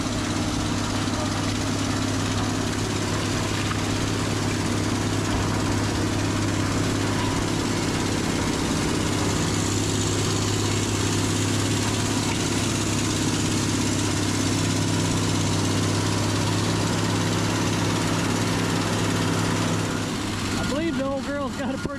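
An old engine with a bad exhaust leak runs at a wood recycling yard, holding a steady, rough, droning idle close by. A few sharp clicks come near the end.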